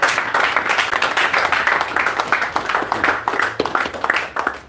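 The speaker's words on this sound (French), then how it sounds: "Applaudissez pour le Seigneur là maintenant." A church congregation claps together in a steady, dense patter of hand claps, fairly loud and sustained throughout, with no clear talk over it.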